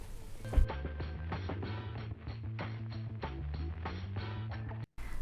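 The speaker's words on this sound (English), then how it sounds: "I'm just going to sew it right sides together, leaving the seam on one side." Fabric panels being stitched together on a sewing machine, a steady mechanical whirring with a regular ticking rhythm that runs close and moderately loud, briefly stopping near the end.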